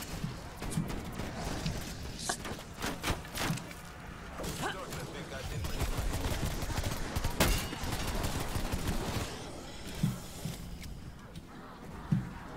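Gunfire in Call of Duty zombies on the Mauer der Toten map, with repeated bursts and single shots cracking over a constant game din, while people talk over the action.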